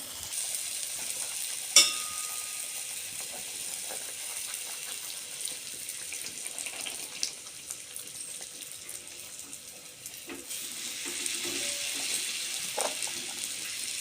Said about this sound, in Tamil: அந்த பூரியை போட்டு பொரிச்சு எடுத்துடலாம்